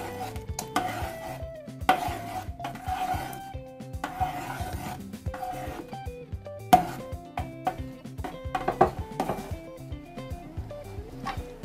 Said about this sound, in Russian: Я мешаю ложкой